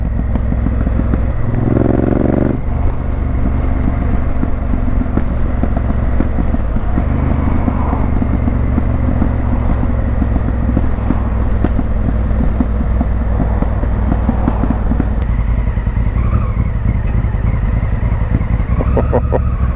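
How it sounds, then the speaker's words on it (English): Honda Africa Twin motorcycle rolling downhill on engine overrun, a steady low rumble with crackly burbling throughout, loud and close with wind buffeting the microphone. "Let's just roll down the hill and listen to that beautiful overrun."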